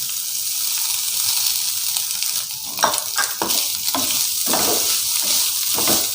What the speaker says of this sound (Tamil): நம்ம தேங்காய் கொஞ்சம் வதக்கி எடுத்துக்கிறோங்க.